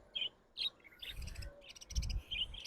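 Pet birds at a bird farm in Bangladesh give quick, high chirps and tweets in short separate bursts, fairly faint, with brief rustling between calls.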